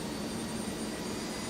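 Jet engine of an SF50 starting up in the flight simulator X-Plane 12: a steady whining turbine tone over a broad airy roar, moderate and unbroken, with no talking.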